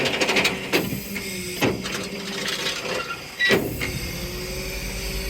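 A hay baler runs with a mechanical clatter and rumble, with repeated squealing, clanking strokes roughly every second or two over a steady machine drone, loud and close.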